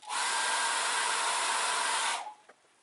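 A hair dryer blows on wet acrylic paint, a loud, close, steady roar of rushing air for about two seconds before it cuts off abruptly, followed by a faint click.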